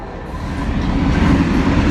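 A train rolling past close by in a broad, steady rumble that swells slightly, heard from the roadside during an electric bike ride.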